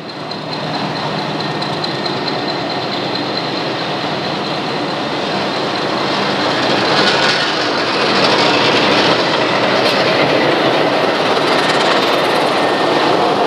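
An old British-era engine pulling passenger coaches runs through a forest in India, a loud, steady close rumble with rail clatter that swells slightly as it passes; no one speaks.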